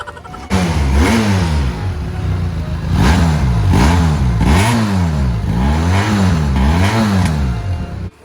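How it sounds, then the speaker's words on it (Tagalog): A Benelli TRK two-cylinder motorcycle on its stock exhaust revs repeatedly, loud and close, each throttle blip rising and falling in a regular rhythm of about five swells. "ang tunog ng stock ng TRK para siyang inline 4"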